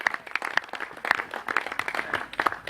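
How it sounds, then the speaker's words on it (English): Wedding guests applaud with clearly separate, uneven hand claps from a modest group, close and steady throughout. "A round of applause for the girls,"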